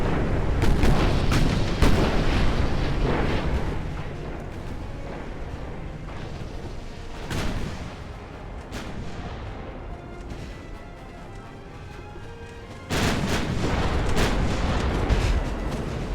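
Nine-inch naval guns on an 1890-era warship in Ultimate Admiral: Dreadnoughts fire in heavy booming salvos, several sharp blasts early on, another around the middle, and a final loud burst near the end, each followed by rolling rumble.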